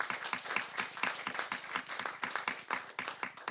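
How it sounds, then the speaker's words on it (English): Scattered clapping from a conference audience, fairly quiet and loosely rhythmic, with individual claps distinct as a modest round of applause continues. "One more round of applause, please."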